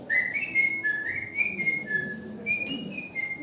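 Preacher whistling a cheerful wandering tune to imitate a man who whistles, with clear sliding notes over faint room background.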